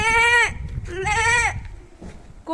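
A child imitates a goat, giving two drawn-out, wavering bleats close to the microphone, with a short gap between them and the start of a third at the end.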